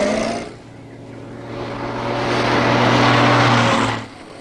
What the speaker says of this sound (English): prototype baby Austins were put through preliminary tryouts